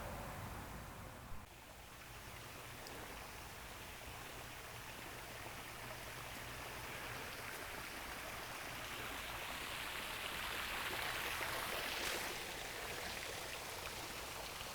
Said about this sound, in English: This is actually our first grotto we built, recirculating of water